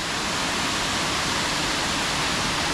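Rutledge Falls, a waterfall in Tullahoma, Tennessee, pours in a steady, dense rushing roar heard close by and alone, with no voices.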